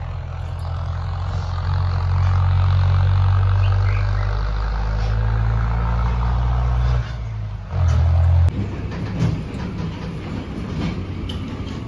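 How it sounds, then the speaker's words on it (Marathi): A tractor arrives in the early morning to load a sugarcane cart. Its loud, low engine rumble drones steadily, then shifts and dips near the end. "आता ना ट्रॅक्टर यायला लागलाय भरायला,"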